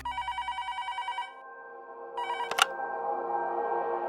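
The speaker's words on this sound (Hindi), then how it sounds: "मधु के बाबा ने यह खुशखबरी सुनाने के लिए मधु की ससुराल में फोन किया।" An electronic telephone ring trills in a quick pulsing burst, pauses briefly, then rings again before a click and a steady tone follow.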